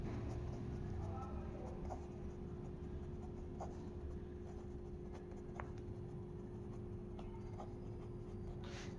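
A pen scratches out arithmetic progression solutions by hand during a Class 10 maths lesson, with faint intermittent strokes under a steady background hum while a voice speaks.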